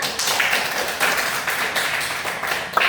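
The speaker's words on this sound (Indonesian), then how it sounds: "Tepuk tangan semuanya." A classroom group clapping together in a steady, continuous patter of applause, fairly loud and close, with no clear speech.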